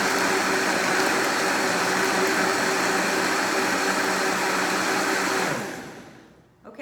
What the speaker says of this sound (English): I would actually blend that twice probably to make sure that the almonds are pulverized enough